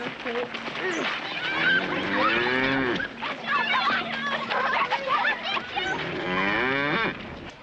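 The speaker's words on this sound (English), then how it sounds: "Old Sarah's a good old cow, ma'am." An old cow lows repeatedly in a farmyard, drawn-out moos rising and falling, mixed with people talking nearby throughout.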